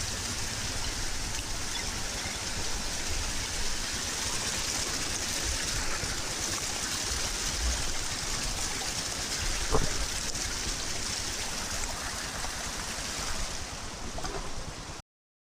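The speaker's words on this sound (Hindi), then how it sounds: "ऊपर से पानी आ रहा है पतला सा, चश्मे से निकल के" A thin trickle of clear spring water running down from above in mountainous Gilgit-Baltistan, heard as a constant close hiss and splatter, unbroken and even, ending abruptly.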